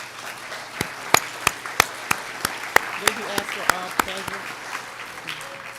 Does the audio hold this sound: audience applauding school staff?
yes